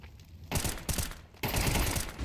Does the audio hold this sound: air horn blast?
no